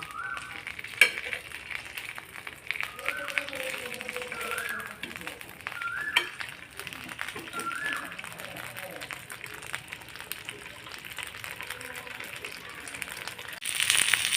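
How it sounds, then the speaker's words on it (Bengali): A fish head fries in hot oil in a pan, a soft, continuous sizzle with scattered crackles and occasional clinks, heard close throughout while a voice talks over it. "এখন মাছের মাথাটা একটু সময় নিয়ে পাঁচ সাত মিনিট সময় নিয়ে আমি মাথাটা ভেজে নিব"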